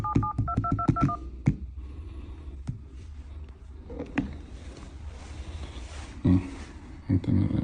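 An iPhone 16 running iOS 26.0.1 places a call with a quick run of touch-tone dialing beeps at the start, followed by quiet room noise and a few soft knocks.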